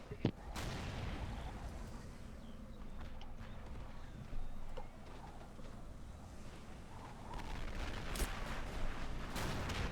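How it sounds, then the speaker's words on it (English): Mortar fire during a video game battle in a Robz Mod tournament match: a few dull, distant booms rise out of a constant rumbling wash of battle noise. "Oof, those mortars, surprised, have been around all game."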